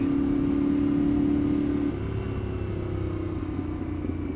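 An adventure motorcycle, a Yamaha T7 or KTM 690, rides a gravel road with a steady, loud engine drone and a held tone that drops slightly partway through, plus rough wind and tyre rumble underneath.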